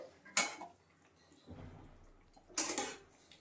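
Metal lid set on a pot of fish curry with radish, potato, eggplant and lentil dumplings in a home kitchen, two sharp clanks a couple of seconds apart with a softer shuffle between, close and otherwise quiet.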